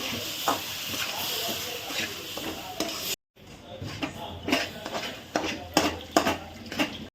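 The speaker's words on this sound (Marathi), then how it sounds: "काजू बदाम वेलची पूड परतून घ्यायचा" Cashews, almonds and cardamom powder sautéing in ghee for a jaggery shira, with a spoon scraping and clinking against the pan over a soft sizzle; a brief silent gap falls midway.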